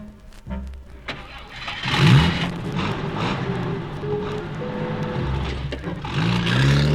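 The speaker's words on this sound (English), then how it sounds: "Everyone was in the car, and they were off to their new farm, free at last." A car engine starts and revs as the vehicle drives off, a sound effect on a 1973 ghost-story record. Mid-pitched engine noise swells and holds steady, loud and close, with no narration over it.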